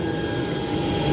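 An airplane's jet engine roars steadily on a flight to Chania, Greece, a continuous broadband rush that holds level and swells slightly toward the end.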